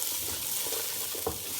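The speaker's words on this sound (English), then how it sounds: "Give it another stir." Peppers with cumin, salt and red pepper frying in a pan, a steady bright hiss with a couple of soft stirring scrapes, brief and close.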